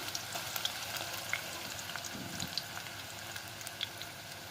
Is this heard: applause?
no